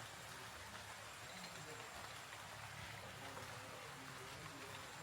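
Steady rain patters down across a garden at dusk, a dense, even hiss of drops that stays constant throughout with no clear talk.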